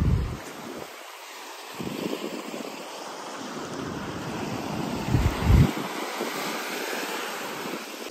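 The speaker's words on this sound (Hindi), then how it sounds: "जिस टाइम हवा ज़्यादा रहती है उस टाइम और ज़्यादा प्रेशर से ऊपर तक जाता है पानी।" Sea waves surge against a seawall as strong wind blows, making a steady, broad roar. Wind buffets the microphone, and a heavier wave crashes about two-thirds of the way through.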